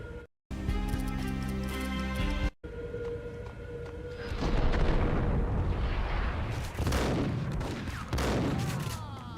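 A frag grenade explosion in Max Payne, arriving as a loud, rolling boom after a burst of game music, followed by sustained rumbling debris and crackling noise that swells and fades over several seconds.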